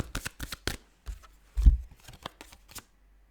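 Tarot cards being shuffled and drawn in a quick series of crisp riffling bursts and soft slaps, close and fairly quiet, with no talking.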